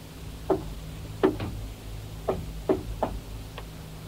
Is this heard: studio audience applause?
no